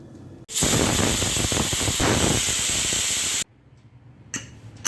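Steam hisses loudly and steadily from a pressure cooker holding coriander biryani as it vents after whistling, a broad continuous rush lasting about three seconds before cutting off sharply, followed by faint rustling.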